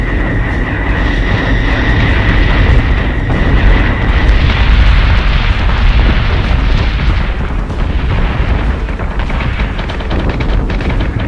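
Warship guns fire in Battlestar Galactica Deadlock, a loud, heavy booming barrage rolling over about eleven seconds with deep rumbles and a sustained roar, with no voices.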